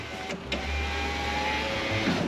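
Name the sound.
Lexus RX 330 rear door power window glass going up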